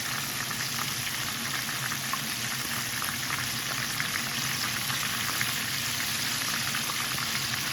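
Fish frying steadily in a pan after being flipped, a dense continuous sizzle and crackle of hot oil, close and even throughout with no talking.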